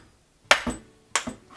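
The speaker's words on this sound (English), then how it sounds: "Just tap it in with a hammer." A hammer taps a flat-head screwdriver to knock out the knockout plug on a garbage disposal, giving two sharp metallic strikes, each followed by a quick ringing rebound, close and loud with no talk.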